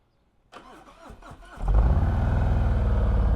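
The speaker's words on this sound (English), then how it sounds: "we'll hit you with a little quick cold start real quick" A motorcycle engine cold start: a rapid whirring starter cranks for about a second, then catches and settles into a loud, steady, throbbing idle close by.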